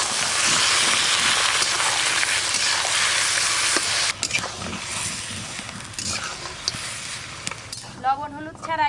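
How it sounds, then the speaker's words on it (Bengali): Pieces of mutton frying in oil with whole garam masala, a loud hissing sizzle that drops in level as the meat is stirred with clinks of a utensil, and a voice speaks at the end. "লবণ হলুদ ছাড়াই খাসি মাংসটা তেলের মধ্যে একটু ভালো করে নেড়ে নেব।"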